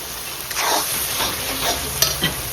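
Chopped tomato hitting hot oil with spices and chilli in a pan for a duck curry, a loud close sizzle broken by a few stirring scrapes and clinks, no talking.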